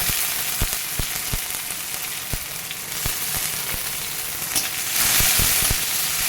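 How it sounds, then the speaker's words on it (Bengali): Onion, garlic and green chili drop into hot white oil and fry with a steady near sizzle, punctuated by sharp pops and spatters, growing louder near the end; nobody speaks. "তেল গরম হয়ে গেছে, পেঁয়াজটা দিয়ে দিই, রসুন লঙ্কা"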